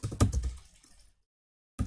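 Computer keyboard typing code, a quick close burst of clicky keystrokes that fades into silence before a final few taps.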